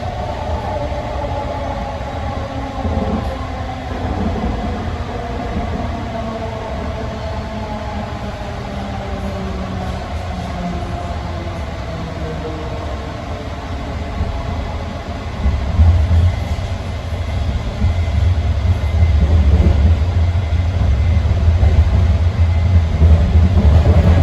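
Riding at the head end of the JFK AirTrain brings a continuous rail rumble with rising and falling electric motor whine, and the low wheel roar swells louder in the final stretch as the train picks up speed.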